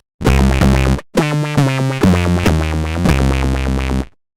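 Electric guitar chords through an LFO-modulated filter ring out in bursts, their tone sweeping and wobbling as the filter opens and closes, loud and close with brief gaps between.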